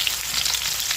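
Fish frying in hot oil in a pan, a steady close crackling sizzle with dense bright popping and no voices.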